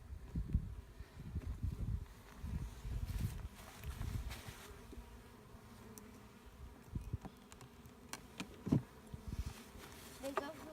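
Bees buzz steadily around an opened spring beehive, a dense low insect drone swelling and fading as they fly near the microphone, with occasional handling knocks and faint wind.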